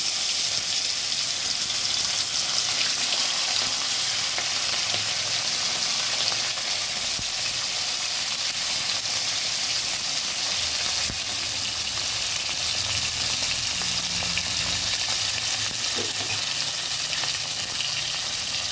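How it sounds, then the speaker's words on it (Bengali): Bhola fish sizzles in hot oil in a wok, a steady, dense frying hiss running unbroken from start to finish with no one talking. "এখন আমি ভেজে নেব মাছটা দিয়ে দিচ্ছি"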